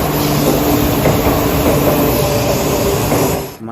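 A toy high-speed train running, a loud steady continuous whirring rumble heard close up for a few seconds before cutting off, with no talk.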